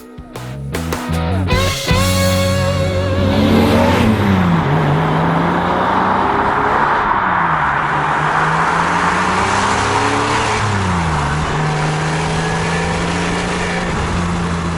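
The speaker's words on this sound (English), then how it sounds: "I think we should ask for a bit of decent flat six action" A Porsche Boxster 70th Anniversary flat-six engine starting and revving loud and close, then holding a steady rising-and-falling drone as it accelerates through gears, with no talk.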